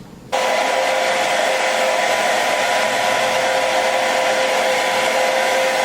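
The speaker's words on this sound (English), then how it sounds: "let me go ahead and blow dry this lace tint onto the lace" A hair dryer switches on abruptly and blows at a steady, loud, constant whir while drying lace tint onto a wig's lace, close by with no talking.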